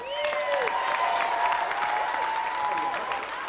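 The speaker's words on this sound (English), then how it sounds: "Round of applause for Carl." A television studio audience claps and cheers in a dense, continuous burst, with a few whoops rising above the steady applause.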